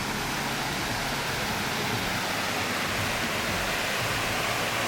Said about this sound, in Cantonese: 有個瀑布喺度嘅。